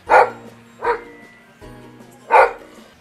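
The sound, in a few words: rescued dogs barking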